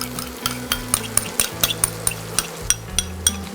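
Yogurt mixture stirred into hot oil in a pan for a spinach chicken dish, giving a soft sizzle under regular scraping strokes of a spoon against the pan, close up, with a few light metallic clinks.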